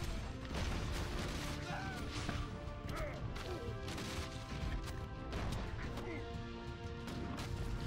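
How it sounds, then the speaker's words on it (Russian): Cannons firing in the Battle for the Throne browser strategy game, heard as a dense, continuous barrage of crashing impacts and booms layered with music and battle noise, loud throughout. "его закидывают наши пушки"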